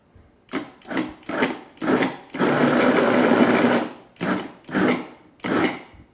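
Vegetables for gazpacho, cucumber and green pepper among them, churned in a blender in short loud pulses with one longer sustained whir in the middle, close and with no talking.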